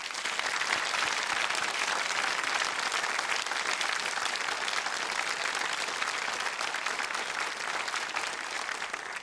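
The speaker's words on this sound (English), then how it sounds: "so please greet and applaud John Braxton and John Mayhew." Studio audience of the Countdown game show applauding the two finalists, a dense, steady wash of clapping that stays loud and even for the whole stretch before cutting off at the end.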